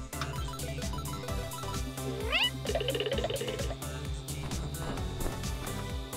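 A cat's rising meow rings out over busy, loud music, followed by softer mewing sounds.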